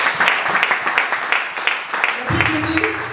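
Church congregation applauding at a French-language ministry conference, a steady burst of clapping throughout with a low organ or keyboard chord entering near the end.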